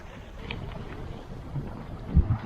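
A sailboat beating close hauled into a southerly wind, with steady broadband wind rush over the microphone and low water wash along the hull, a few louder gusts and slaps near the end.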